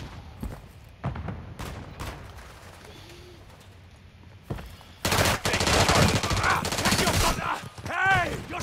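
Gunfire in a Call of Duty match: scattered single shots early on, then a sustained loud automatic burst of rapid fire from about five seconds to the end, mixed with whooshing effects.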